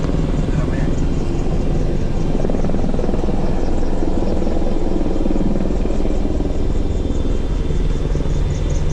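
A helicopter's steady, loud rotor thrum and engine roar runs throughout, close and unbroken, with wind buffeting the sound.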